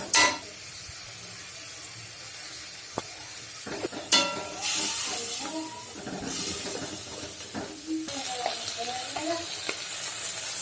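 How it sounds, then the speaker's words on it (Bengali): Ginger garlic paste with turmeric and chili sautés in a pan, with bursts of hissing sizzle and scraping stirs between quieter stretches, close by, while a voice talks over parts of it. "মশলাটা কষিয়ে নিচ্ছি"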